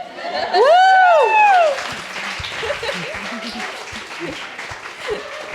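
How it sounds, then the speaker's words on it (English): Audience clapping at a live panel conversation, a moderate patter of claps from a seated crowd following a whooping cheer, continuing under light chatter and laughter. "that's either the sound of clapping or it's the sound of Max patting himself on the back really hard"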